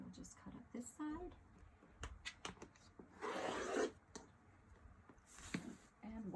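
Scissors cutting fabric along a curved seam: quiet, close rasping snips, with two longer bursts of cutting between small handling rustles and taps.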